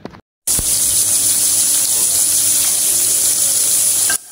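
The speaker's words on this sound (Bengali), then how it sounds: "একটা করে মাছ ভেজে নিব।" Fish frying in hot oil in a home kitchen: after a brief silence a loud, continuous sizzle starts and holds steady for several seconds before ending suddenly.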